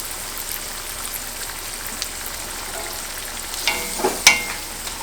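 Cheesecake egg rolls in egg roll wrappers frying in hot oil, a steady soft crackling hiss with a few sharper pops and spatters near the end.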